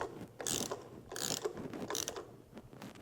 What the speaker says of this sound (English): Grab the ratchet.